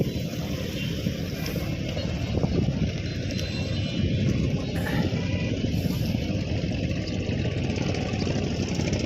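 A large passenger ship's engine drones on the Buriganga river in monsoon season, a steady mid-low hum heard from a small boat on the water, with faint wind and water noise around it.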